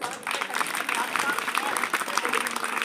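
Students clapping together in a classroom quiz event, a steady dense burst of applause that fills the whole stretch, mixed with voices from the group.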